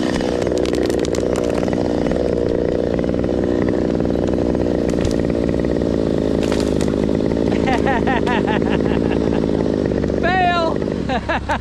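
Chainsaw working on a limb of a rotten tree, its engine droning loud and steady throughout, with voices talking over it during the last seconds.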